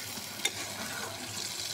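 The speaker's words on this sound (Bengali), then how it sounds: "আমি একটু নাড়াচাড়া দিয়ে নামিয়ে পরিবেশন করি।" Baim fish curry being stirred in a pan, a quiet continuous sizzle with one brief clink of a spoon against the pan early on, heard alone without voices.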